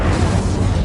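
A fire spell bursts in Hogwarts Legacy, a short dense explosive boom with low rumble filling the whole moment, loud and close, no voices.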